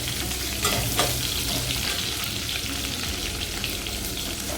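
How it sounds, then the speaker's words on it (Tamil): Onion sautéing in oil in a pan for drumstick-leaf sambar, a loud, dense, continuous sizzle close by with a brief stirring scrape near the start, no talking. "பெரிய வెங்காயம் நல்லா வெங்காயம் நல்லா வதங்கணும்."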